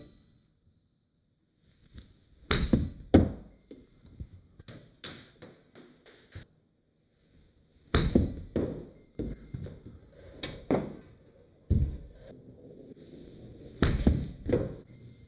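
Golf club striking the ball on pitching shots, three separate groups of sharp, crisp clicks spaced several seconds apart with quieter shuffling and handling sounds between them, close by and with no talk.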